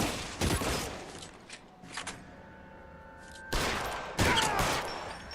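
Bursts of gunfire in the video game LA Noire during a movie theater shootout, loud broadband shots in clusters separated by quieter stretches with a faint sustained tone, no talk.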